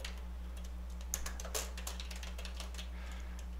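Soft, irregular clicks of typing on a computer keyboard come in quick clusters over a steady low electrical hum.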